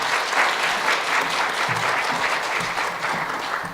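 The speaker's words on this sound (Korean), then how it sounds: "여러분 뜨거운 박수로 환영해 주시면" A Korean church congregation at an anniversary revival service gives warm, sustained applause welcoming a pastor, a full roomy clapping that holds steady and eases slightly toward the end.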